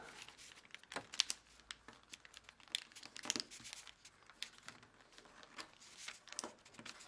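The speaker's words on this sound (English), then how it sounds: "take this edge and fold it right up to this crease fold on all layers" Origami paper is creased and folded across several layers, giving faint, close crinkling and soft scratchy rustles in short irregular bursts.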